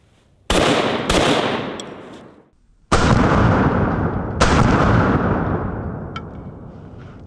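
Double-barrel sawed-off shotgun fired several times, loud close blasts in two pairs separated by a short pause, each shot followed by a ringing decay.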